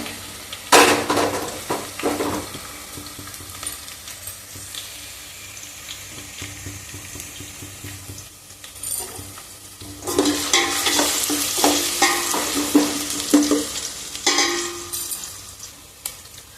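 Onions fry in a pan for chicken biryani, a low sizzle with occasional stirring knocks, swelling into a louder hissing stretch in the latter half that may include running water.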